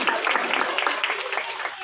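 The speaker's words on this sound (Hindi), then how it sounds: "शिल्पी जी के लिए एक बार तालियां जरूर बजाएं" A crowd applauding at a Ganpati festival gathering, steady dense clapping for a short stretch, fairly close and even in loudness, with voices mixed faintly into it.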